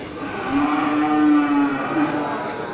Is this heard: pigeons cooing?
no